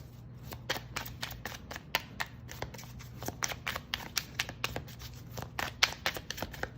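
Tarot cards being shuffled in rapid riffling bursts, a steady crackle of many quick snaps over a low background hum, with no talking.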